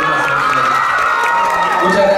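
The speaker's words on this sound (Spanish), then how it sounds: "Un fuerte aplauso para JG, pues." An audience at an awards ceremony cheers and whoops for a presenter, a brief, loud burst of mixed voices and shouts with little clapping.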